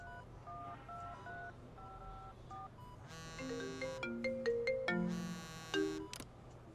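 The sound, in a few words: telephone keypad dialing tones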